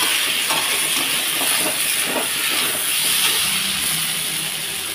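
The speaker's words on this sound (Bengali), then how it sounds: "এখন আমি এর মধ্যে জল দিয়ে দেব।" Water poured into a hot pan of sizzling cauliflower-potato curry, producing a loud, steady hiss and bubbling sizzle that lasts throughout, close up with no talk.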